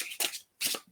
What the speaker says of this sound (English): Oh, I shuffled them twice